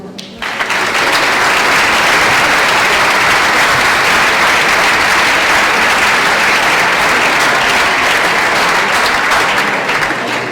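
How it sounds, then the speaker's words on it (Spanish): An audience at a comic book presentation bursts into loud, sustained applause that starts abruptly and continues at full strength for about ten seconds. "Un fuerte aplauso."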